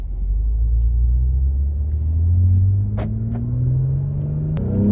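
A BMW X3 M40i with a tuned B58 engine pulls hard under acceleration, its loud droning exhaust note rising steadily in pitch, briefly dipping at a shift, then climbing again close to the listener.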